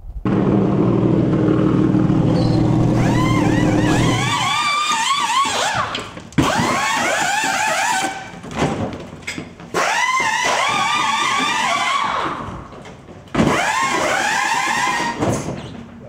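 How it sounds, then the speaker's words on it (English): Race car pit stop practice with a tire change and refuel, a loud idling engine rumble giving way to rapid repeated bursts of air-gun whirring as wheel nuts are spun off and on. "We're going to bring the car in, make a lot of racket, change the tires, put some gas in as fast as we can"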